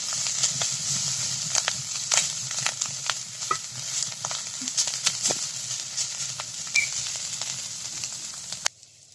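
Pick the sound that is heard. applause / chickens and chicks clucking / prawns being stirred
prawns being stirred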